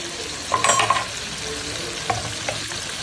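Onion frying in a pan with salt added, stirred with a few brief scraping clicks over a steady soft sizzle; no talking.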